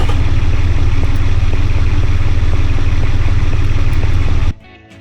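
A home-built V16 engine runs loud and close with a dense, steady rumbling clatter, then cuts off abruptly near the end, leaving a faint low hum.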